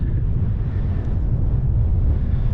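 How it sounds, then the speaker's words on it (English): Strong wind buffeting the microphone on an exposed hilltop during a countryside circular walk near Tissington and Parwich, a loud steady low roar throughout with no talking. "Hopefully you can still hear me because of the wind."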